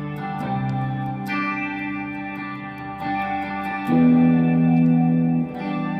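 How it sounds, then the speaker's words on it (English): Sustained electric guitar chords through reverb and delay pedals, washed in reverb and echoing delay, notes ringing and blooming into a wide, shimmering tail, with no voices. "Throw some reverb, a little delay,"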